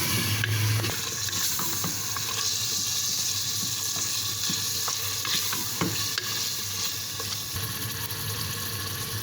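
Potatoes frying in a spicy masala of tomatoes and ground spices in a pan, a steady close sizzle with scraping stirs and occasional clinks throughout, no voices.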